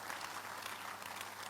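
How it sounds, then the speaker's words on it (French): Church congregation clapping as an offering of praise during a midweek communion service, a dense continuous roar of many hands, steady and even throughout the short stretch. "Donnez à l'Éternel une offrande d'acclamation."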